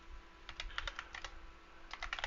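Fingers tap out quick clustered keystrokes on a computer keyboard, close and fairly quiet, with a pause between two bursts of typing.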